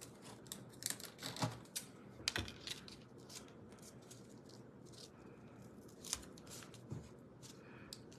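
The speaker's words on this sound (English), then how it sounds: "So we are going to place this right on the middle of this piece here. And I am going to tape that." Small taps and crinkles as a paper piece is taped onto a handmade stamped card at a craft table, with scattered soft clicks and rustles, close and quiet, and no talking.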